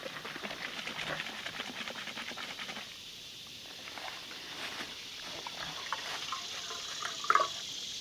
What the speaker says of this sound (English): See how much cold water we can get out of here